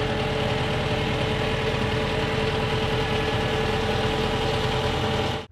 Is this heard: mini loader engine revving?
yes